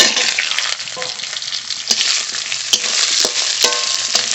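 Fried lata fish dropped into mustard oil tempered with whole cumin, a loud, continuous close sizzle with crackling bursts and a few sharp utensil clicks from stirring.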